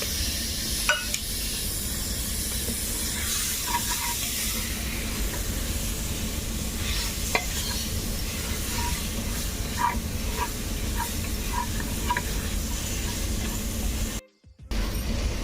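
Chopped tomato sautés in browned masala for a Kerala mutton curry, a steady close sizzle and hiss with scattered light ticks and scrapes of stirring, cut by a sudden brief dropout near the end.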